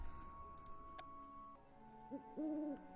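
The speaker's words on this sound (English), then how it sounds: "Oh, owls!" A soft owl hoot in the video game Hogwarts Mystery, heard faintly and briefly against a quiet ambient background, with no talking.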